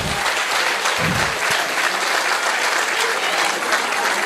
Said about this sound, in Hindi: तो एक बार जोर से ताली बजाइए।